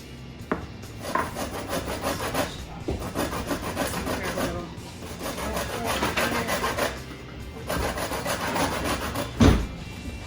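A lime's peel is scraped across a zester in repeated rasping strokes, close and fairly loud, in several bursts separated by brief pauses, with one sharp knock near the end.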